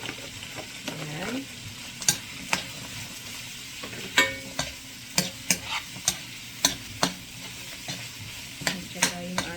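Carrots stir-fry in a pan for pancit bihon, a faint steady sizzle with repeated sharp clinks and scrapes of a utensil against the pan at an uneven rhythm, close by with no talking.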